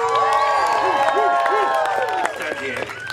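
Audience cheering and applause at a Disney California Adventure show, a broad crowd roar with whoops sustained throughout, overlaid by an amplified voice and music.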